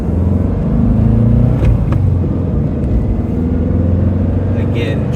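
A 1963 Porsche 356B on a test drive, its engine droning and pulling steadily from inside the cabin, loud and continuous, with someone talking over it.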